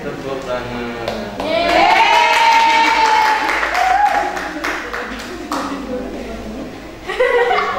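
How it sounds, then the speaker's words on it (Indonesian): A crowd of children claps steadily for several seconds after a Quran recitation lesson, with children's voices and chatter mixed over the applause, before it tapers and a voice speaks near the end. "Tepuk tangan."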